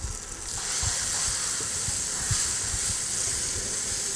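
Turmeric, coriander and red chili powder fry in a pan with onion ginger garlic paste, making a steady, loud sizzling hiss close by that continues without a break.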